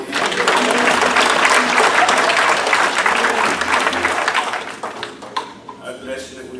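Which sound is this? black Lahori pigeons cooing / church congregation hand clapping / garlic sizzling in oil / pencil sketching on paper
church congregation hand clapping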